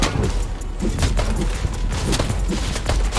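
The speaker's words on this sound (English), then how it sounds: "someone shooting me" Rapid gunfire in the Fortnite video game crackles in dense bursts of sharp shots, one after another, loud and close.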